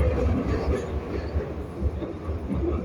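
Glasgow Subway train rumbling through the tunnel under the River Clyde, a steady loud low roar with rhythmic wheel clatter from inside the carriage.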